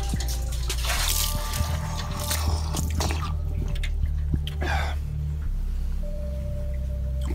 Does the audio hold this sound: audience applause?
no